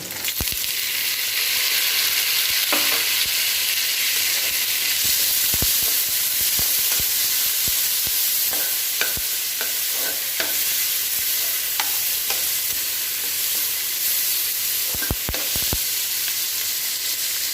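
Tomatoes sautéing in a pan, a constant loud hissing sizzle with intermittent spoon taps and scraping strokes, close and unbroken.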